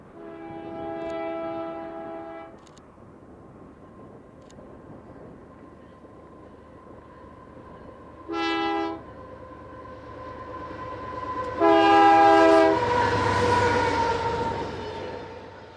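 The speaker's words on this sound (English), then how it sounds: "what really caught the eye of our group were the bathtub freight cars hauling coal" Coal train of old bathtub gondola freight cars passing in southern Alberta, a steady distant rumble of rolling cars punctuated by several loud multi-tone horn blasts, growing louder toward the end.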